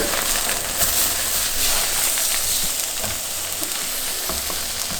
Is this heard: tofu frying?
yes